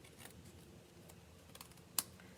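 Scissors trim a thin overhang of paper cardstock, a few soft quiet snips and rustles ending in one sharp crisp cut near the end, close by with no talk.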